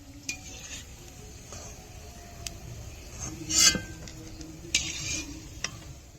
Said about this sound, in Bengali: পকোড়াগুলো ভাজা হয়ে গেছে এখন নামিয়ে দেবো